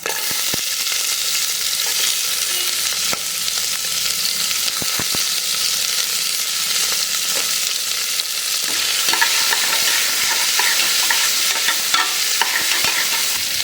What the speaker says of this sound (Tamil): எண்ணெய் நல்லா காஞ்சிடுத்து இப்போ இந்த பட்டை மொத்தம் சேர்த்துக்கலாம் கூடவே நம்ம வெங்காயத்தை